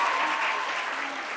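A studio audience applauds a guest on a French-language Easter variety show, a dense, steady wash of clapping that carries on throughout at an even level.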